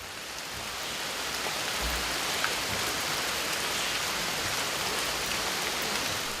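Heavy rain pours down in the Amazon rainforest, a dense, even hiss of countless drops that holds steady and fills the whole stretch, with no voices.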